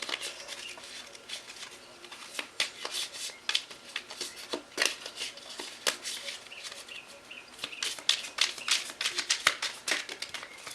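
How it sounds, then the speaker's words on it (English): Tarot cards being shuffled by hand, a series of quick riffling and flapping bursts at irregular intervals, close and crisp, with no voices. "So let me shuffle the cards."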